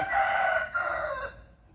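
A wild junglefowl rooster crows once, a short, hoarse call heard fairly close and clear at the edge of a forest, fading out toward the end.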